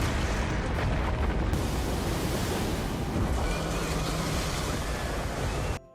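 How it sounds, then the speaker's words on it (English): Towering tsunami waves crash onto a coastal town in a disaster film, a loud, continuous roar of surf and rushing water that stays dense throughout before cutting off abruptly at the end. "the towering waves crashing onto the coastal town"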